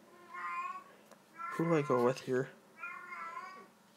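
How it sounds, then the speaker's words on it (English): A pet cat meows several times, short tonal cries at the start and end, with someone talking over the middle. "Sorry about my cat meowing again."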